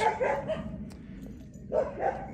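A neighbour's dog barks a few times in short bursts at moderate distance, with a pause between the barks.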